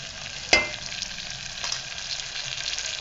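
Ginger and minced mutton keema sizzle steadily in a hot pan, with a sharp clack of a spoon near the start and scraping stirring sounds over the continuous frying hiss.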